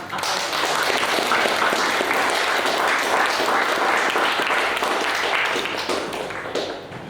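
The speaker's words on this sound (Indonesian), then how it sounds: "Mari beri tepuk tangan" An audience gives sustained, dense applause after a group's research presentation on liquid organic fertilizer made from pineapple peel waste. The clapping is loud and continuous and fades slightly at the end.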